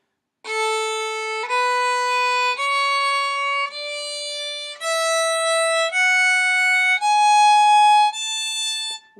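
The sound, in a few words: A major scale in quarter notes on bowed string instrument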